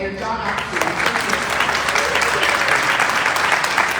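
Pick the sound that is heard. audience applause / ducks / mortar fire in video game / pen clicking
audience applause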